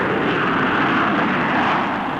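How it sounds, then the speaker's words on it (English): A Vickers Valiant four-jet bomber makes a rocket-assisted short takeoff and steep climb, a loud steady roaring engine wash that fills the clip without a break. "It gave a demonstration of the short takeoff and steep climb made possible by this extra thrust"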